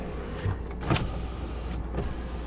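A power window on a Jaguar XJR hums as it moves, a brief motor whir with a small clunk in the middle of the car's cabin, close and moderately loud, with a faint chime toward the end.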